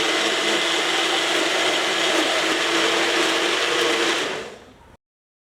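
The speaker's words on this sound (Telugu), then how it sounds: "స్పూన్తోనే మెలన్ గుజ్జును తీసి జార్లోకి యాడ్ చేసుకుని స్మూత్గా బ్లెండ్ చేసుకోవాలి" An electric blender runs steadily, blending muskmelon pulp into a smoothie in its jar, a loud continuous whir that holds for about four seconds before winding down and stopping.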